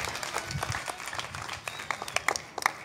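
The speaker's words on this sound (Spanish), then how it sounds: "Fuerte aplauso para Brian." Applause breaks out at a freestyle rap battle event, with scattered claps rising from a crowd, uneven and moderately distant, growing sharper toward the end.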